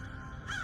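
A single brief crow caw sounds over a low background hum in a cartoon, short and moderately clear.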